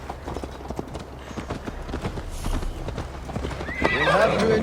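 Horse hooves clip-clop in a quick, steady rhythm as a rider mounts up in the Assassin's Creed Valhalla video game, a horse whinnying near the end, with voices talking over it.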